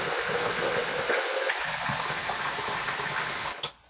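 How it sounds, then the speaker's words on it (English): Tap water runs steadily into a pitcher being filled to a marked one-gallon line, a close, continuous gushing rush that stops abruptly near the end. "So I'm going to fill the water to this scale."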